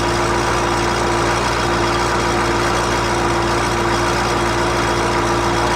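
CUCV military truck's 6.2/6.5 liter diesel engine held at fast idle, a steady low rumble with a constant hum running unchanged throughout, loud and close with no talking.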